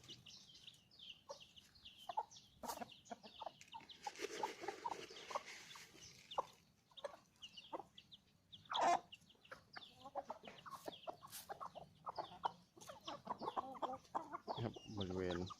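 Backyard chickens cluck and chatter on and off in the background in the evening, with occasional sharper squawks and faint outdoor noise throughout.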